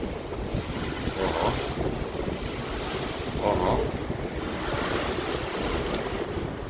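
Rough North Sea surges in repeated waves with strong wind buffeting the microphone, a constant roar throughout.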